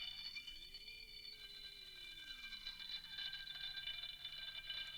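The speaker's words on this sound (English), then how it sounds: "You can also mess with the pitch of the sample to get a darker or brighter texture." A quiet synth pad chord carries a bright, whistling noise-sample texture whose pitch is swept up and down while the chord holds steady, alone without voices.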